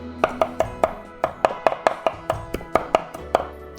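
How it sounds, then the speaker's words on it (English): A knife chops squid on a cutting board in crisp, evenly paced strikes, about a dozen sharp close taps in quick succession. "let's try to just chop this"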